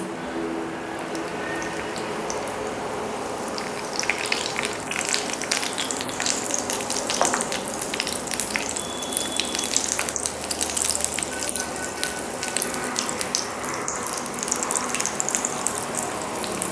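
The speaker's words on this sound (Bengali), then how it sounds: "সাদা তেল গরম করে নিয়েছি কড়াইয়ে, একটা একটা করে দিয়ে দেবো। ভাজতে থাকবো" Boiled eggs fry in hot oil in a wok, giving a steady, close crackling sizzle that grows busier partway through, with scattered pops and no talking.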